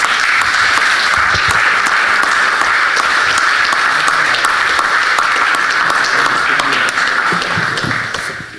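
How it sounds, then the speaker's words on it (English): An audience at a felicitation ceremony applauds two people, loud continuous clapping from a full room, dense and even, tapering slightly at the end. "Give them both a big round of applause."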